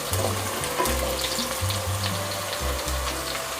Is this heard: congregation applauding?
no